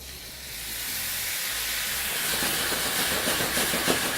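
Vegetables sizzle in hot oil for a nontraditional yakisoba stir fry, a steady hiss that swells and grows louder as the pan heats, close up and with no talking.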